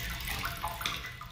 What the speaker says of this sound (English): So I'm letting some of the water out, not a ton